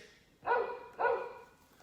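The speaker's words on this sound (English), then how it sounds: "Dog." Two loud barks from a dog, close and separated by a short pause, against a quiet background.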